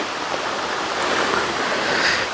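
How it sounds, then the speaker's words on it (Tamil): Clear running stream water at Cheddikulam in Vavuniya, flowing after rain, heard as a loud, steady rushing wash close by with no talking. "ஆனால் இது ஓடிக்கொண்டு தான் இருக்குது தண்ணி தேங்கி நிற்கல"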